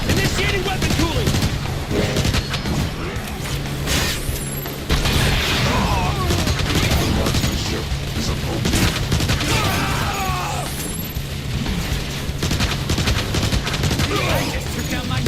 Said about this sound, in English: They're firing from the windows!